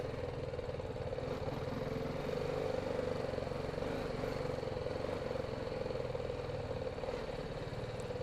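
A vehicle rolls up and parks outside a house in Harare, heard as a low, steady engine rumble at idle-like pace, fairly quiet and unchanging across the eight seconds, with no speech.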